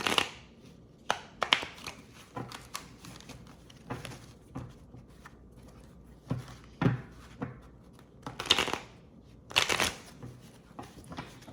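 Tarot cards are shuffled close up in irregular bursts of papery riffling and slapping, with short pauses between, and no talking.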